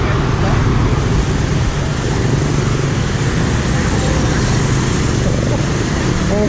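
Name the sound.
street traffic in a Vietnamese town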